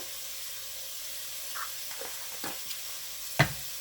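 A spoon stirs seasoned cheeseburger soup ingredients with onion powder and garlic powder in a pot on the stove, under a faint steady sizzle, with a few soft scrapes and one sharper clink of metal near the end.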